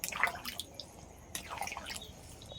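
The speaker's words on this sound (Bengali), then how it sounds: "এবার আমি পরিমাণ মতন জল দিয়ে দেবো।" Water poured into mutton curry in a cooking pot, faint, brief splashes and drips in uneven bursts, close by and soft.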